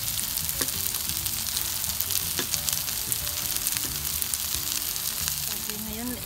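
Ginger frying in oil for sweet and sour tuyo gives a dense, steady sizzle close up, broken by a few sharp ticks of stirring, with quiet talk faintly beneath it.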